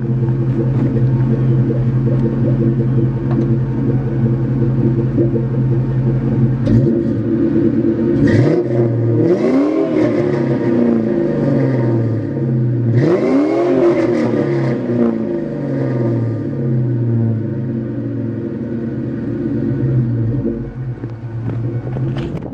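A pony car with Flowmaster exhaust and no headers idles with a deep burble, then blips its throttle in a few sharp revs that rise and fall, loud and close, before settling back to a rumbling idle.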